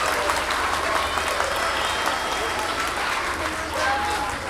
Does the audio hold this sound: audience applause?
yes